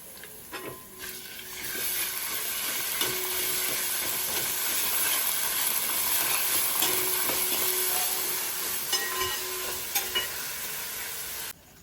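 Onions with ginger garlic paste fry in a pan with a continuous hissing sizzle, with occasional clinks and scrapes of stirring and a quieter start before the sizzle swells.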